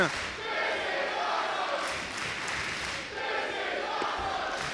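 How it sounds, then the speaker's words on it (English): Wrestling crowd at a Lowell, Massachusetts show cheering and roaring in a steady, dense wash of voices, loud throughout with a brief dip near the middle. "The crowd here in Lowell showing their appreciation"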